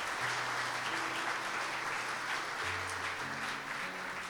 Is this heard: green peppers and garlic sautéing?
no